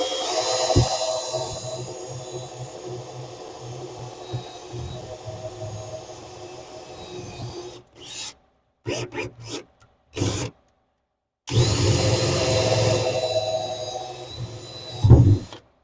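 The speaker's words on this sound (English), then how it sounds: "I'm going to go ahead and just drill a hole all the way through." A drill bit grinding a hole through a Spec Miata car's tunnel, a steady rasping whir for several seconds, then short bursts separated by silence before resuming loudly.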